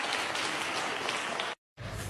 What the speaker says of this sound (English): why is the crowd clapping for this?